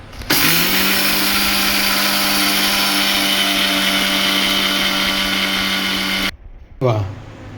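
A mixer grinder whirs loudly and steadily as it grinds coriander, fenugreek, cumin and mustard seeds into powder for raw mango murabba. The motor drone runs continuously for about six seconds, then cuts off abruptly and briefly restarts.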